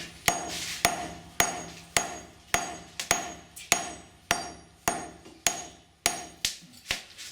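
A blacksmith forge welds a Damascus steel billet using a flux of WD40, clay, sand and charcoal. About thirteen heavy, evenly spaced hammer blows ring out close by, each clang decaying before the next, with no talk.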